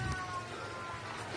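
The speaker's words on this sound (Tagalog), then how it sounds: "May pusa, tumutunog, oh." A cat meows briefly amid noisy outdoor ambience near a tunnel in Ternate, the call faint under steady background sound.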